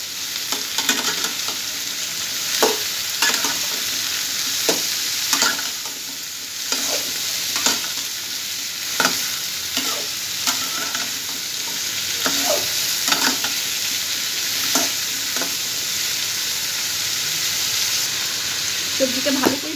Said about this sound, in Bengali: সবজিগুলো ভালো করে একটু ভেজে নেব।